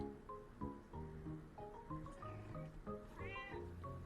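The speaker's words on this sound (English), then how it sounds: "She keeps on meowing." A cat meows repeatedly in short, rising calls, close and fairly loud, with a quick chirpy run near the end; no one speaks.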